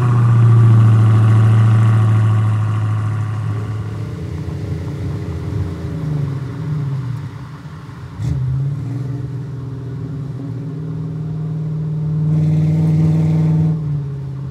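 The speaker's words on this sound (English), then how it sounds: "I found a bunch of V8 Hellcat sound effects." A V8 Hellcat engine revs and idles in loud close sound-effect passes, deep rumbling swells rising and falling with a couple of throttle blips, no talk.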